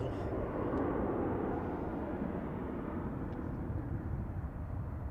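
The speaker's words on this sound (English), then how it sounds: "We got a Ryanair that's actually branded Malta Air for once" A Ryanair Boeing 737 MAX 8200 in Malta Air livery, on a flight from Milan at Manchester Airport, produces a continuous low jet rumble that stays steady and fairly distant, with no talking.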